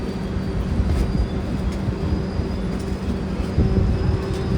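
A train from Bengaluru to Tirupati rolls along the rails with a dense, continuous rumble and rhythmic wheel clatter, loud and close from inside the carriage.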